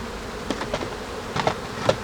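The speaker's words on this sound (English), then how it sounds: "ready to be filled by the bees" Honeybees buzz close by at a hive in a dense, wavering hum, with individual insects swelling louder as they pass near.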